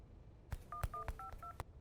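Telephone dialing in an aircraft crash investigation video game: a short run of touch-tone keypad beeps, about five distinct tones with clicks between them, close and clear over a quiet background.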